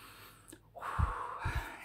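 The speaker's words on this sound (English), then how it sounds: "have a good sniff." Close nasal sniffing of Lynx Java body spray scent, a quick inhale followed by a few short snorting sniffs through the nose in a quiet room.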